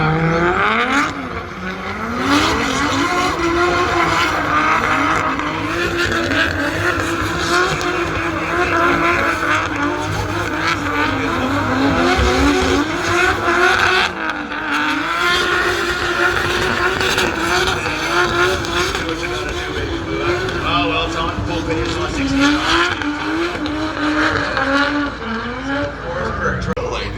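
Pickup truck drifting hard at a drift fest, engine roaring continuously near the mic with revving and tire squeal through the whole stretch; a voice talks over the loud motor noise.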